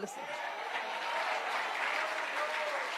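A church congregation applauds in a steady, continuous wash of clapping, heard at moderate distance with a faint crowd murmur.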